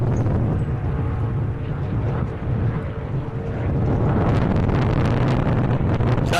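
Supercat outboard race boats roar down the back straight at a Geelong round of the Australian Super Boat Series, a loud, continuous engine drone heavily buffeted by wind noise.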